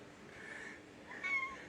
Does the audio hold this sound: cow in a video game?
no